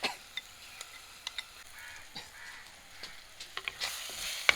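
Onion fries in a pan with coriander and chili powder for a fish curry, a quiet steady sizzle broken by small sharp crackles and pops and an occasional stirring scrape.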